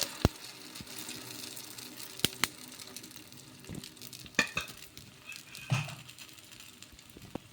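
Puffed rice batter with sesame seeds cooking in a little oil on a pan, a faint low sizzle broken by sharp clicks, taps and scraping handling noises.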